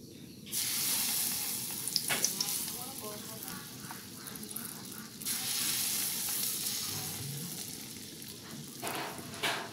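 Vegetarian Vietnamese bánh tằm bì food frying in a hot pan gives a steady, close sizzling hiss with brief crackles and stirring clicks, swelling louder for a few seconds before easing back.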